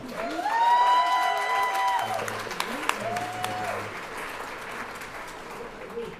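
An audience at a youth arts event claps and cheers, mixed with a voice that talks loudly over the top through most of it.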